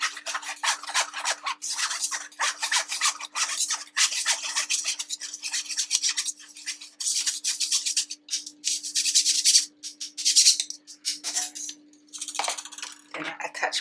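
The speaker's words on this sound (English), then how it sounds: "Make sure that I sieve, just to get rid of any lumps." Flour shaken and rubbed through a metal sieve for a birthday cake, a continuous close-up scratchy rasping in rhythmic bursts with brief pauses.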